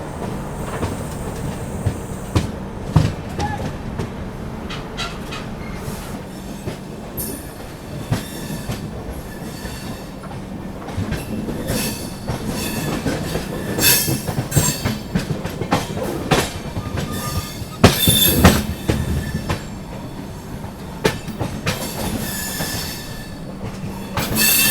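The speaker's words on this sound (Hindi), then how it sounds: "बाकी भाई निकल चुकी है अपनी grand trunk express MGR Chennai central से" The Grand Trunk Express pulls out of MGR Chennai Central, wheels clattering over rail joints with intermittent squeals and metallic clanks, rising and falling in loudness as the coaches roll steadily away.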